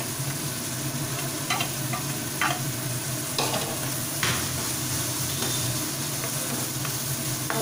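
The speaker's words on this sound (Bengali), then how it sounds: "মশলাটাকে একটু কষতে দিচ্ছি আগে" Ground spice paste fries and sizzles in a pan for an egg curry with winter vegetables, a constant hiss broken by several distinct scraping strokes of a spoon stirring it, close and without talk.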